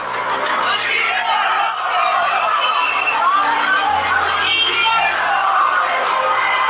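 A large crowd of protesters shouts in the streets of Pakistan, a dense, continuous roar of many voices at a loud, even level, with no pauses.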